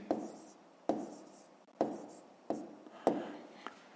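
Pen writing numbers by hand on paper during a fifth-grade math exercise, with a series of soft scratchy strokes, each starting with a sharp tap and fading, spaced about a second apart.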